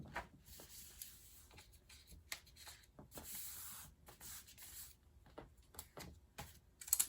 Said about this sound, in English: We're going to just tape it down.